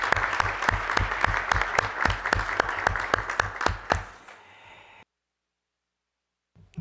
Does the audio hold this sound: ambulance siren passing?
no